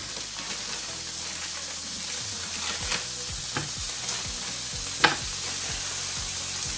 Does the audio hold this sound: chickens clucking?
no